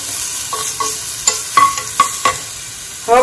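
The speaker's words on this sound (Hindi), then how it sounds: "अब हम इसमें 1 टीस्पून क्रश किया हुआ गार्लिक डालेंगे। हम इंस्टेंट बना रहे हैं, इसे हल्का सा सेकेंगे।" Crushed garlic sautéing lightly in oil in a pan gives a close, steady hiss, broken by several sharp spatula scrapes and taps near the end.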